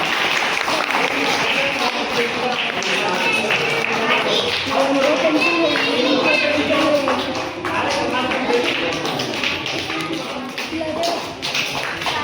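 Schoolgirls at a Teacher's Day event at an Urdu school receive steady crowd clapping that runs loud and unbroken through the stretch, mixed with chatter and voices calling over it.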